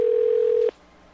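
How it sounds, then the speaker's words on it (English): Telephone tone heard during an outgoing call: a single steady electronic beep holds for about two-thirds of a second and cuts off abruptly, leaving a quiet line hiss, with no voices. "It's ringing."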